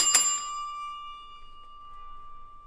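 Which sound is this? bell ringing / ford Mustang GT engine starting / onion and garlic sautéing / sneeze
bell ringing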